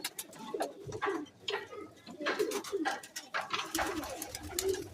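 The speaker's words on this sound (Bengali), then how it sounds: "দেখুন এ গাদা পায়রা নিচে" A large flock of pigeons kept for sale coos in overlapping, throaty bursts, close by and continuous, with soft fluttering and shuffling between calls.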